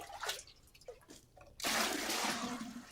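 Maple sap sloshes and drips in short splashes as it is dipped, then a steady rushing pour of sap for the last second or so.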